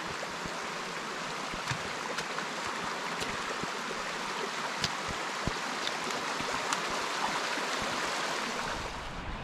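A river in Kidland Forest, Coquet Valley rushes along steadily, a continuous broad wash of flowing water with faint scattered splashes, heard alone at a moderate level.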